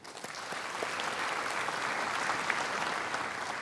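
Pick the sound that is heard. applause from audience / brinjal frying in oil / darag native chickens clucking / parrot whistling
applause from audience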